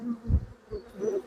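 Bees buzz close by in a brief uneven hum as they are shaken off hive frames during a colony inspection.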